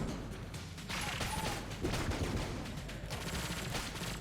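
Rapid gunfire from a powerful gun in the game Enter the Gungeon, a dense, steady stream of loud shots layered over busy game music and effects.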